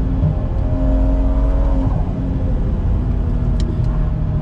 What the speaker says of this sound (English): Then roll onto the throttle, and there's some lag, and then it's going,